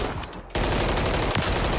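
Video game gunfire, a loud close burst of rapid automatic shots in a dense continuous stream after a brief pause, with no voices over it.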